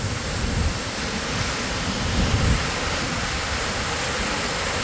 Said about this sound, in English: Nothing like getting baptized in a waterfall.